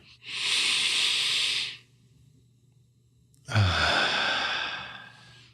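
Slow deep breathing, a long airy inhale lasting over a second, a quiet pause, then a long breathy exhale, close to the microphone and alone.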